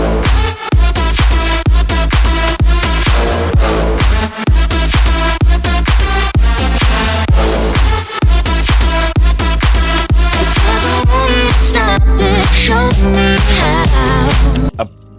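An aggressive, dense synth lead drives an electronic banger, loud and constant with rapid rhythmic stabs over heavy backing for the whole stretch.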